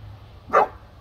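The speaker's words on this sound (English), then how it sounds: "He's barking at the birds over there." A dog lets out a single sharp bark, at moderate distance, over a low steady background hum, with no talking.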